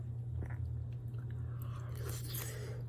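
A person eats a diet breakfast snack and chews softly up close over a steady low hum. Gentle crunchy bites pick up toward the end.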